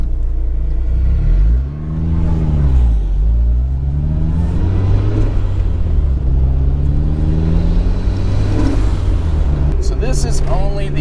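A Mazda Miata NB fitted with a Flyin' Miata turbo kit, driven with its engine note rising and falling through rev sweeps and gear changes, heard from inside the car as a loud, steady drone.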